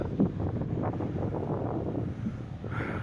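Strong wind buffets the microphone on a sandy, stony beach in Wales, a constant rough rumble and roar with no voices.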